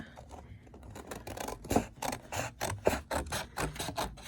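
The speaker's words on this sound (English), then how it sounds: "Let me get some scissors." Scissors snip through paper in a quick run of close, crisp cuts, separated by short pauses and small rustles, with no talking.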